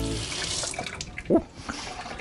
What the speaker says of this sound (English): That's some hot water.